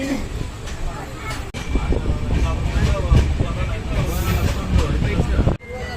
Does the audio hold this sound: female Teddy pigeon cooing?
no